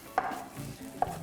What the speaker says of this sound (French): Je vais quand même hacher l'ail comme ça